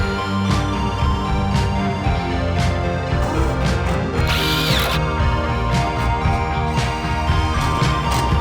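A power drill drives screws into the roof framing of a shipping container workshop, the motor whirring steadily with ratcheting clicks and one louder high burst midway, close and fairly loud, with no talking.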